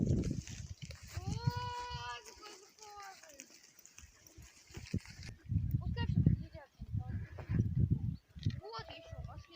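Goats bleat in a wavering, drawn-out call near the start, heard outdoors while a herd is being grazed, with people talking nearby and further short bleats mixed in.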